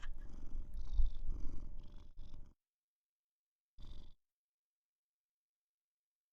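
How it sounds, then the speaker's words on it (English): A cat purrs close to a microphone in soft, low rumbling bursts, then stops, with one more short purr later amid otherwise quiet stretches. "He's purring."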